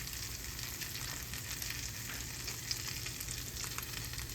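Stuffed French toast fries in hot oil in a pan, giving a steady close sizzle and crackle with small pops throughout, no voices.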